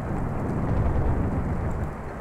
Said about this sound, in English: With such a downpour ensuing outside.